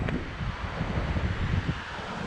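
Wind gusts buffet the microphone at Ban Krut beach in Thailand, a steady, loud rumbling blow with a faint wash of surf beneath and no voices.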